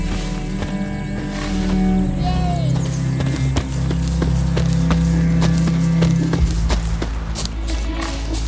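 Horse galloping in The Witcher 3, steady rapid hoofbeats of clip-clop loud and near over a continuous low game rumble, running unbroken with no talk.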